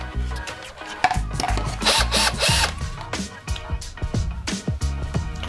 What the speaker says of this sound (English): whenever you're working with a fiberglass, you drill a hole